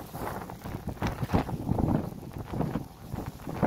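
Strong gusty wind of a sandstorm in the Kuwaiti desert buffets the microphone in rough, rumbling surges that rise and fall, with no voices heard.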